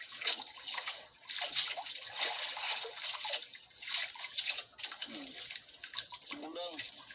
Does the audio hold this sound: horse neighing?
no